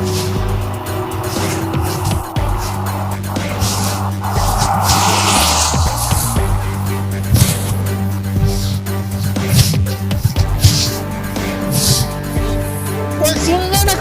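A car drives past at close range, its engine rising and falling with some tire noise across the span, loud and continuous.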